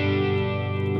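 Guitar played through a Boss Katana MkII amp with its chorus effect on and the low depth turned all the way down: one brief, sustained, overdriven chord ringing steadily and alone.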